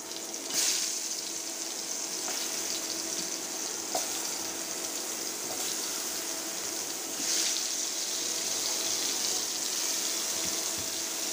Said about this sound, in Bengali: পটলগুলো লাল লাল করে ভেজে নিব।